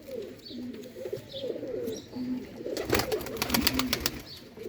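Sialkoti roof pigeons cooing, several soft, rolling coos from close birds under a faint background hum, joined near the end by a burst of sharp crackling or rustling.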